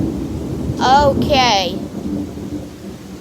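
Close thunder in a storm with pea-sized hail, frequent lightning and 40-mile-an-hour wind, a loud low rumble rolling under rain and wind noise while a person speaks briefly over it.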